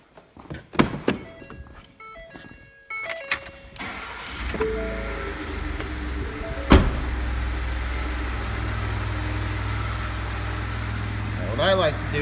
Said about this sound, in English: So now what we do, start the car.